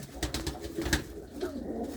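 Pigeons coo softly and repeatedly in a pigeon coop, a low rhythmic cooing close by with no talking.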